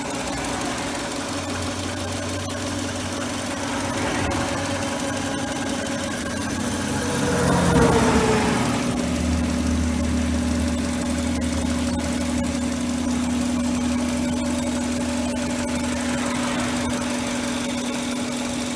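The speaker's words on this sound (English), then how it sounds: "so I'll just be quiet, let you guys listen to the motor now" A 1997 Subaru Outback wagon's 4-cylinder engine idles steadily, a close, even low hum with a faint ticking texture and a slight swell in the middle, with no one talking.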